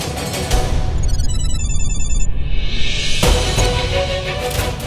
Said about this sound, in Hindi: डॉक्टर अवस्थी का फोन था